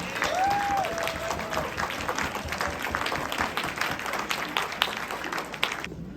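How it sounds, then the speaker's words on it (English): An audience at an International Women's Day award ceremony applauds an award winner, Dominique Anglade, with a steady, dense wash of clapping that carries on for several seconds, a brief high whistle rising over it near the start. "Please give a really big round of applause to Miss Dominique Anglade."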